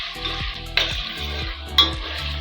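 Tomato paste frying in a pot for a thick Nigerian tomato stew, giving a steady close sizzle with two sharper bursts as it is stirred, under a low rhythmic hum and with no talking.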